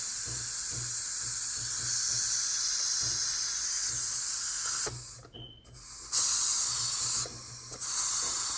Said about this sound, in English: You're going to release the steam and you're going to turn the valve before you open